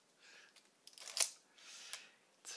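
A Canon New F-1 film camera's shutter fires once, a loud, crisp metallic snap with a brief ringing tail, close up in a quiet room amid a few faint handling clicks.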